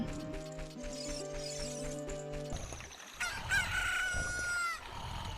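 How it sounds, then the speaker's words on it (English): A game rooster crows in The Legend of Zelda: Ocarina of Time, a rising electronic cock-a-doodle-doo following a tinny musical jingle, fairly close and without speech. "A chicken hatched from the egg you were incubating."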